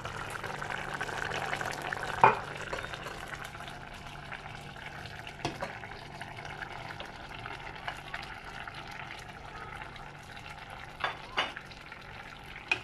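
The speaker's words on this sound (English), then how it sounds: "I'll just give it a stir." A mushroom and potato curry simmers and sizzles gently in a pot while a spoon stirs it, with a sharper scrape near the start and a few soft knocks later on a steady, quiet bubbling bed.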